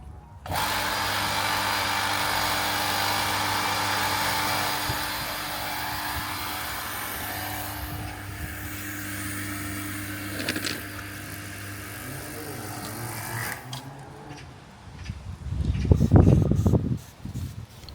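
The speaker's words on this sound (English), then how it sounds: "Now turn on the machine." A Kranzle pressure washer motor hums steadily at close range for several seconds, then cuts off; a few clicks and a louder low rumble follow.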